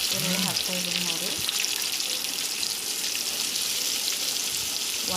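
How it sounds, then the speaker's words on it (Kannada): Chopped onions frying in a pan, a steady broadband sizzle holding throughout, with a brief tonal voice-like sound near the start. "ಇದಕ್ಕೆ ಈರುಳ್ಳಿ ಹಾಕ್ತಾಯಿದ್ದೀನಿ ನೋಡಿ."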